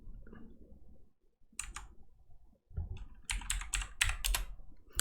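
Bursts of clicky keystrokes on a computer keyboard while typing commands into a Python program, short quick runs separated by brief pauses, close and fairly quiet.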